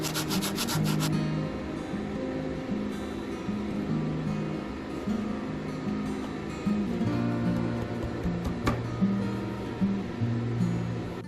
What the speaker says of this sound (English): I still needed to do a little sanding to get the handle cut out to fit tightly against the shaft